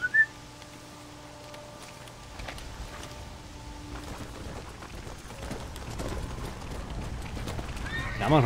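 Horse hooves clip-clop steadily through a Red Dead Redemption: Undead Nightmare game scene, with whinnies and neighs breaking in near the start and end over a low ambient game soundtrack.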